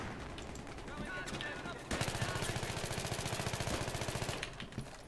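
A P90 submachine gun firing in Battlefield 3, a long rapid burst of evenly spaced shots in close quarters under background battle noise, with a voice speaking over it.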